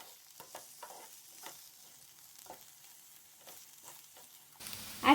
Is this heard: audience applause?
no